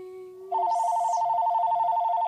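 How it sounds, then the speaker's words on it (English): An indoor telephone rings in a fast, steady electronic trill that starts abruptly and runs unbroken for about two seconds, loud and close, with no talking. "The phone keeps ringing."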